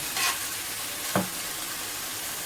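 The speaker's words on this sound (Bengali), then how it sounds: "দেখো সব মশলাটা ভাজা হোক।" Onion and spice paste sizzles steadily in a pan, with two brief scraping strokes of stirring breaking through the continuous frying hiss; no one speaks.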